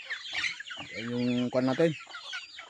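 Chickens clucking on a rural provincial farm where poultry and ducks are raised, a loud harmonic squawk standing out mid-clip amid scattered clucks, with someone speaking briefly over it.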